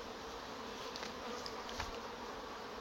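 Honeybees at a very strong hive being moved out of decayed wood hum in a steady, faint, continuous drone with a few brief closer buzzes passing by.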